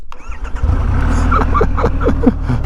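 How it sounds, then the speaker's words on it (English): A 2024 Triumph Rocket 3 R Storm motorcycle's big engine barks awake and revs in several sharp, deep blips over a rumbling idle, loud and close. "just before we go riding, you need to hear this bike"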